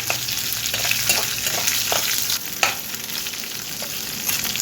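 Onions frying in a pan alongside dried red chillies and garlic, a steady close sizzle with occasional stirring scrapes and no talk over it.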